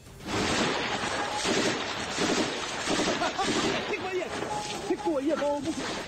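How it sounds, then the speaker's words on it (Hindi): Gunfire crackles in a Kyiv neighbourhood during fighting between Chechen special forces and Ukrainian troops, a dense, continuous volley mixed with shouting voices throughout. "कीव का एक इलाका गोलियों की आवाज से गूंज उठा"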